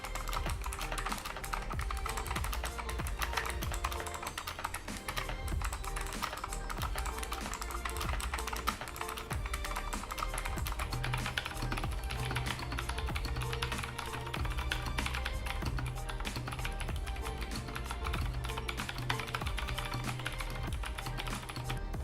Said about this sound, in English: these switches is probably the most clickiest switch I have ever used, even louder than Gateron Blues.